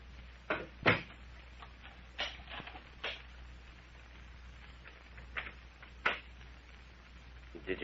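Doors are shut and locked in a radio-drama scene, heard as several sharp close knocks and clunks scattered over a low steady hum, with some faint handling noise between them.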